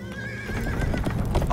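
A horse whinnies loudly with a rising, wavering call while hooves clip-clop steadily beneath it, close and prominent, as a horse-drawn carriage sets off toward an embassy in a period drama.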